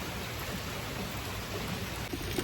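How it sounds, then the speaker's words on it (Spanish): Rain falling outdoors in Oklahoma, a soft, even hiss of steady drizzle with a few faint drop taps near the end, no voices. "Es algo bien maravilloso escuchar la lluvia."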